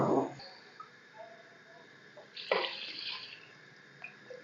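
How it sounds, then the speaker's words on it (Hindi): Water poured into a cooking pot of mutton pulao with salt and spices, a brief splash at the start, then faint trickles and a second gush midway, quiet kitchen sounds. "पानी इसके अंदर और डालूंगी।"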